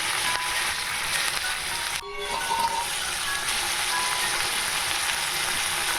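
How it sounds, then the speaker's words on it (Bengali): Tomatoes frying in hot oil for tomato chutney give a steady, close broadband sizzle that fills the whole stretch, with one brief dip partway through and no talking. "তেলটা হয়ে গেছে আমি এবার মধ্যে এর মধ্যে টমেটো দিয়ে দিলাম"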